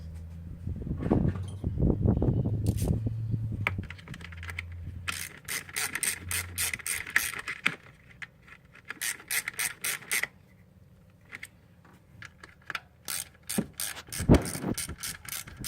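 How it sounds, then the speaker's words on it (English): A ratchet tightens bolts during a spark plug change on a Toyota Hilux engine: close, rapid clicking runs repeat in several bursts, after some earlier clunks and handling noise, with no voices. "you bolt these back up. I would only do these at 6 foot-pounds."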